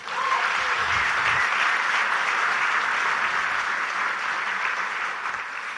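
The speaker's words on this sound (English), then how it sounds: "Can y'all clap for that?" A crowd at a political rally for an anti-poverty mission claps loudly and continuously, a thick, even roar of applause that stays strong before easing slightly at the end.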